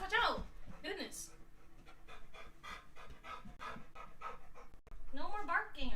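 Dog panting heavily and whimpering close by, with a person talking over it throughout; a brief loud burst early on and louder rapid breaths toward the end.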